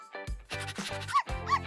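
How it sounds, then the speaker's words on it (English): A toy dog from a Barbie doll play scene gives a quick series of short, high, yappy barks, near and fairly loud, with no talk over them. "Dog broke Skippy's dollhouse."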